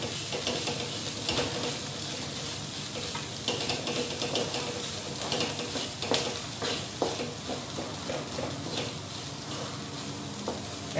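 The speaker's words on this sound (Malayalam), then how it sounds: "നന്നായിട്ടൊന്ന് ഇളക്കി കൊടുക്കാം." Idli pieces fry and sizzle in a pan for idli upma while being stirred, a steady close hiss with frequent scraping and clattering stirs throughout, no voices.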